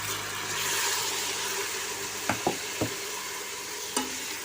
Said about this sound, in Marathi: हा राईस मी व्यवस्थित परतून घेतला आहे